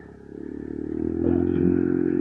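An ADV motorcycle engine drones steadily while riding on a long mountain trip, a continuous low rumbling hum that rises slightly as the bike accelerates, loud and close with no talk.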